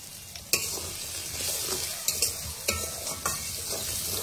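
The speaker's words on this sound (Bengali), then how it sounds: "আমি যে পাতলা বেসনটা গুলিয়ে রেখেছিলাম সেটাকে এখন ফোড়ন দেব" Spices sizzle and crackle in hot oil as a tempering for thin gram flour batter, with a steady frying hiss broken by several sharp spitting pops and stirring noises, close and fairly loud.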